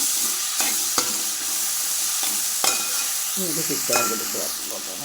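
Two tomatoes sizzle as they are sautéed in a pan for a small chicken curry, a steady close frying hiss broken by a few sharp stirring knocks and scrapes.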